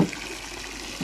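Hot water running from a tap into a basin, heard as a faint, steady splashing hiss for about a second.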